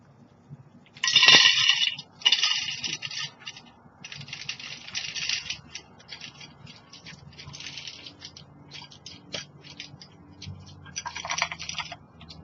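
Wood stove pellets poured into a woodgas stove, with a loud initial clattering rush followed by a patter of scattered pellets rattling and ticking against metal, tapering off with a final rush near the end.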